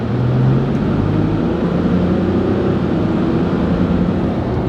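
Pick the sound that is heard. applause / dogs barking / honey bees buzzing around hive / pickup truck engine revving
pickup truck engine revving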